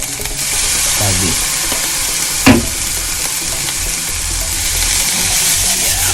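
Egg fried rice sizzling loudly in a pan as fish sauce goes in, a steady close crackle with one brief sharp spatter midway and a short spoken remark over it.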